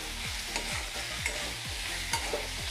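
Tomatoes with salt, cooking for matar paneer, stirred in a sizzling pan: steady rhythmic scraping strokes of a spoon over continuous frying hiss, close and clear, with no voices.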